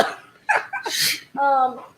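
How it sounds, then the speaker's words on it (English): A few harsh coughs close up, followed by a brief voiced throat sound. "I want to cough."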